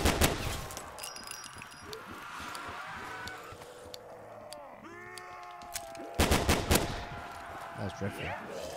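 Bursts of automatic gunfire mow down zombies in Call of Duty: Black Ops 3 Zombies on a SpongeBob Rock Bottom map, loud volleys at the start and near the end with game effects and groaning sounds between.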